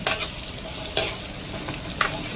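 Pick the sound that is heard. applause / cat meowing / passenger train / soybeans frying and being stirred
soybeans frying and being stirred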